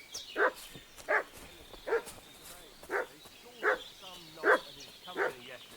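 A village dog in the video game Kingdom Come: Deliverance 2 barks repeatedly, giving seven moderately loud barks at a steady pace over a quiet outdoor ambience, with no speech in between.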